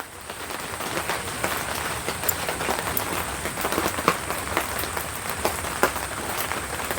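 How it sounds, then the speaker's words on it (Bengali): Rain patters steadily on the roof of a plant nursery shed, a dense, even hiss of drops with occasional louder taps, close and continuous without talk. "বৃষ্টির টাপুর টুপুর শব্দ আপনারা শুনতে পাচ্ছেন নিশ্চয়ই।"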